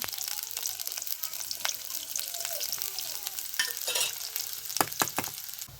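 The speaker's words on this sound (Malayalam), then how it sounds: "അപ്പോൾ അതിക്ക് ചെറിയ ഉള്ളിയും കാന്താരിയും ചേർത്ത് കൊടുക്കുക കേട്ടോ. അതൊന്ന് മൂത്ത് വരട്ടെ." Shallots and kanthari chili fry in coconut oil, crackling and sizzling continuously up close, broken by sharp spatters and occasional stirring scrapes, with no one talking.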